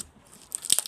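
Ninja slime being pressed, giving a brief burst of crisp crackling crunches in the final half second after near silence.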